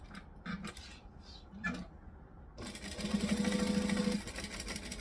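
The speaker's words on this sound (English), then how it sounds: "Sewing like this hurts your shoulders in the long run." A sewing machine stitching an altered Nora garment, a few short bursts of needle clatter followed by a sustained steady run of stitching close by, with no talking.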